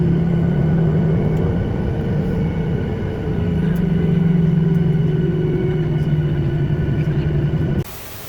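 Boeing 737-800 airliner taxiing to the gate, a steady loud low rumble with a constant engine hum heard from inside the cabin, cutting off abruptly near the end.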